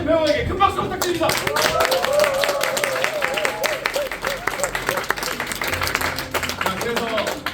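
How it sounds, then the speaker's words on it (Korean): After a Korean stage play adapted from 12 Angry Men, a theatre audience claps for the actors in sustained, dense applause with a few voices mixed in. "수고해주신 배우에게 큰 박수 부탁드립니다."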